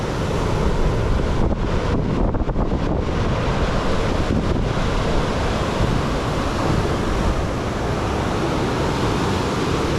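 Sea waves surging and washing steadily near a small fishing boat off Palawan, with heavy wind buffeting the microphone throughout, loud and continuous with no talking.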